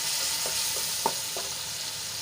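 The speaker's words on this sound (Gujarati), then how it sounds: "અને મરચાને આપણે મિક્સ કરી લઈશું" Green chillies and spices sizzle softly in a pan on a low flame, with a few light scrapes and taps as they are stirred.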